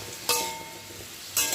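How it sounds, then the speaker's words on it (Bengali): Potato pieces fry in a pan for aloo posto, a soft steady sizzle broken by two sharp bursts of hiss and clatter as they are stirred. "আলুটা ভাজতে দিয়ে দিয়েছি।"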